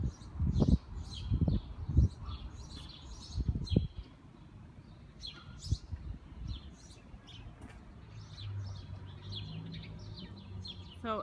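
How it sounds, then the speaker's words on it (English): Birds chirp and tweet outside St. John's Polish Church in a city neighborhood, light scattered calls at moderate distance, with a few louder bumps and knocks early on and a low outdoor hum underneath. "The birds just love it here."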